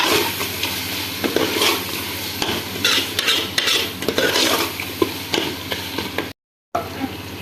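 Coriander, cumin and black pepper being stirred into beef frying in a pan for pyaaz gosht, a steady sizzle with repeated scraping strokes of a spoon against the pot, close and continuous, with a brief gap near the end.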